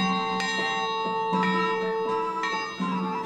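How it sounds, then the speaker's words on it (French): A heavy bell rings inside the Saint-Vite grotto, struck several times in slow succession with a bright, sustained metallic tone and lingering resonance in the enclosed cave. "c'est qu'il faut sonner la cloche."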